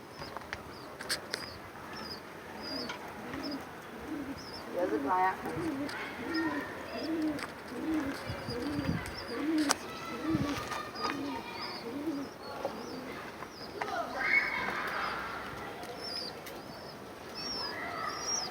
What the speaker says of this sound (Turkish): İçeri girmesin kuşlar.